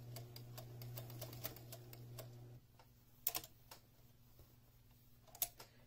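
A sewing machine runs steadily, stitching a basting seam on a saxophone instrument bag, its motor hum stopping partway, followed by a few light clicks and handling taps in a quiet room.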